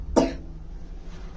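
A person with a chest complaint gives a single sharp, harsh cough close to the microphone, followed by quiet background hum.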